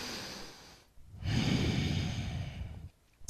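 Slow, audible breaths drawn in and let out during a morning yoga pose for hips and core, close and steady, with a quiet pause between exhales.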